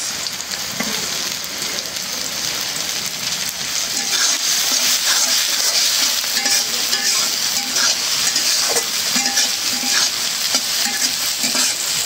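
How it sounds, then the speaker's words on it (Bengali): Loud, close sizzling of onion, green chili and garlic frying in a pan, a steady hiss with spatula stirring and scraping sounds throughout. "পেঁয়াজ মরিচ রসুন ভাজা হয়ে গেছে।"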